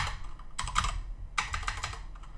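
Keys clacking on a computer keyboard as router configuration commands are entered, two quick bursts of close typing with a short pause between, no voices.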